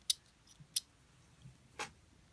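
Scissors snipping at a brushy baitfish fly made with EP brushes, a few quiet, sharp snips spaced apart with no talking.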